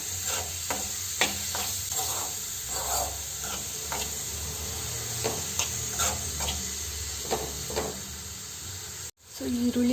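Onions sautéing in a pan for Ankola Nadavar style chicken sukka, a steady soft sizzle with occasional scrapes and stirring taps, ending in a brief break.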